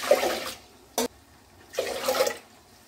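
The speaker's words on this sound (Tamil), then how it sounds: "அப்போ இதே டம்ளர்ல ரெண்டு டம்ளர் தண்ணி ஊத்திக்கலாங்க." Water is poured from a tumbler into a pressure cooker holding a quarter kilo of soaked rice, in separate splashing pours with a brief slosh between them, close and fairly clear.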